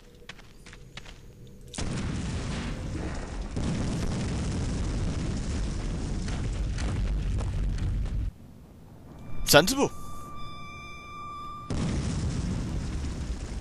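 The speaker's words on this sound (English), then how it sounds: "How dramatic. Explosions!" Deep, rumbling booms of explosions in the game Clive Barker's Undying fill most of the clip, with a brief lull, a sharp burst of tonal effects, then more roaring blasts; a voice speaks briefly.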